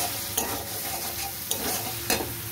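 Four green chillies sizzling in a frying spice paste with turmeric for a cauliflower and bean posto, a continuous close sizzle broken by three sharp stirring scrapes.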